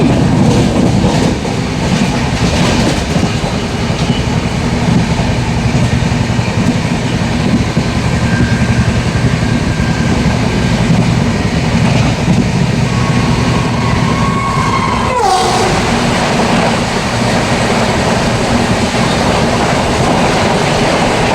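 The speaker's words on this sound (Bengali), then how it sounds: "ক্রস হবে এখন ট্রেন নাম্বার" Passenger train 13065 rumbles past on the tracks, heard from aboard another train, a loud continuous roar with rhythmic clickety-clack of wheels and a sudden whoosh as the crossing ends near the close.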